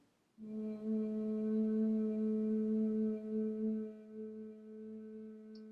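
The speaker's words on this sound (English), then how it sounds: "So Brahmari is that slight humming on the exhalation" A steady, low nasal hum from a single voice during yoga bee breath (Bhramari) on the exhalation, sustained for about five seconds on one pitch, alone in a quiet room.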